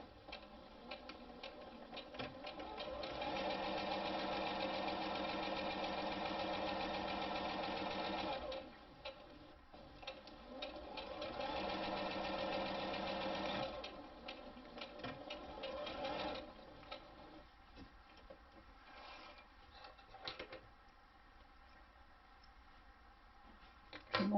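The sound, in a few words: sewing machine stitching two pieces of fabric together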